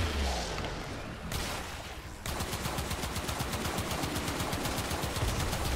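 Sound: pistol gunfire in video game Warframe

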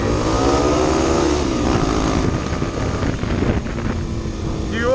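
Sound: dirt bike motorcycle engine riding off-road

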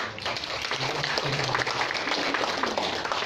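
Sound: audience applause for a speaker

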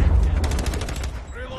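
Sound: gunfire shooting at a VTOL in a video game

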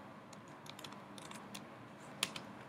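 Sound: typing a terminal command on a Mac computer keyboard

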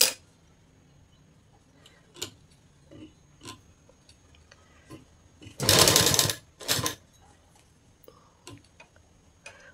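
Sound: sewing machine stitching a frill on a blouse

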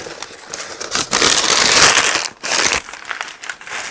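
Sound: packing paper crumpling while unboxing a shipment

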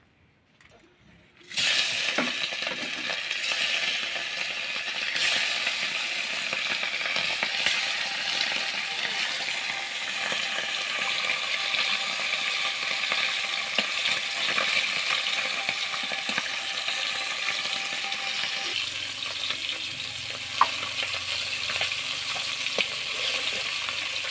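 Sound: rui fish frying in hot oil in a wok

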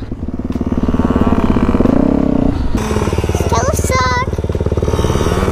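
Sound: small child's motorcycle engine running

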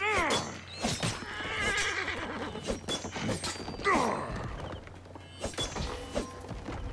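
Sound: horse neighing in Assassin's Creed Origins video game

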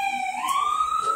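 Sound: siren

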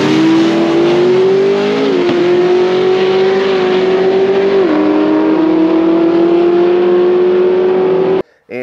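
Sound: drag race car making a quarter-mile pass

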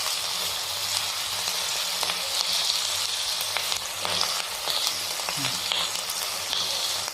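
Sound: potatoes and spring onions frying in a pan

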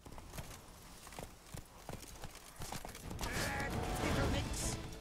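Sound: horse hooves in the video game The Witcher 3

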